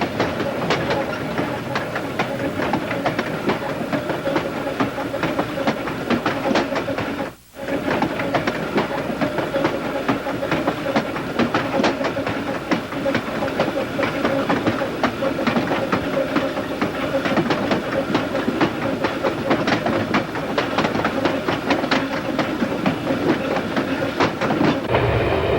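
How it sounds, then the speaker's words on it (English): An ET&WNC Tweetsie narrow gauge train runs downhill into a gorge with a steady, loud rhythmic clatter of wheels on rails, interrupted once by a brief dropout before the clatter resumes. "The train heads downhill into the gorge as a section crew pauses to watch"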